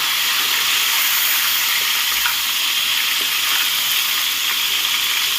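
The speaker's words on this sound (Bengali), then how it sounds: "আর একটু নেড়ে কেড়ে আমি ভেজে নেব" Pointed gourd (potol) frying in oil in an open pan, a steady dense sizzle with a faint occasional stir, close and continuous with no talking.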